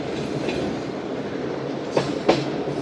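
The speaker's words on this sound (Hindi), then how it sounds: "ट्रेन चीचा वतनी रेलवे स्टेशन अप्रोच कर रही है।" Karachi Express passenger train approaching a railway station, a steady loud rumble of rolling wagons with two sharp clanks near the end as wheels cross rail joints.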